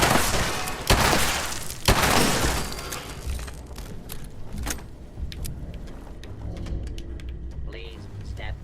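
Gunfire in Fallout 76, a loud burst of repeated shots and blasts at the start, then scattered clicks and clatter under game voices and talk.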